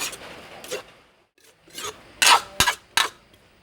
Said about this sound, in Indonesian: Sambil terus kita aduk biar bumbunya merata.